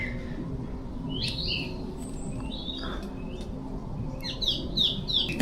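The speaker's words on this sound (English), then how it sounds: "Birds chirping" Several birds chirp and tweet in a woodland setting at night into morning, scattered calls rising into a quick burst of overlapping chirps near the end over a steady low rumble of background noise.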